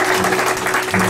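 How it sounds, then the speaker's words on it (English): A studio audience at a Nashville country music radio show claps in a brief, dense burst of even applause with a faint steady hum underneath. "Everybody clap."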